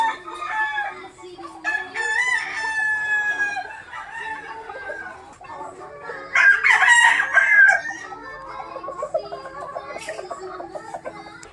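An LDT Boston Roundhead broodcock crows loudly and close by, with a second, stronger crow midway through. Clucks and other fowl calls fill the gaps around the crows.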